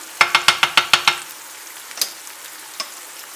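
A spoon stirs salted carrots in a pan, giving a quick run of seven sharp, evenly spaced clinks followed by two isolated taps, close and fairly loud over a faint sizzle.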